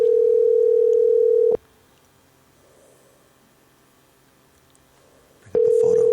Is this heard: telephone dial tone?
yes